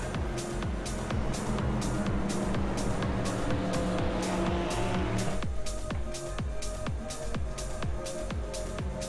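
GT3 race cars circulating at Watkins Glen in a sim racing game, engines droning loudly and steadily with repeated sharp gearshift or pass-by pulses in a regular rhythm, with no talk.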